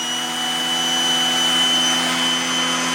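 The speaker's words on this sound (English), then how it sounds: "you can hear different sounds, different suction, just by twisting this" A Shark Navigator Lift Away upright vacuum cleaner runs steadily and close by, a constant whine with a dense airy roar, its pitch and suction shifting slightly as the setting is twisted; no talking.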